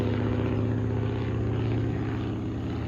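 A PT-17 biplane's engine drones loudly and steadily as it flies past nearby, a low throbbing rumble that holds constant without fading.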